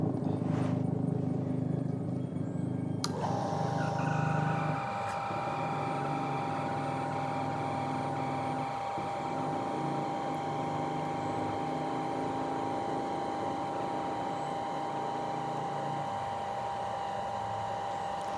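A Shimizu shallow-well water pump runs at a steady, loud hum with a smooth motor tone, starting up a few seconds in and continuing evenly throughout, with faint knocks and gurgles as it begins filling.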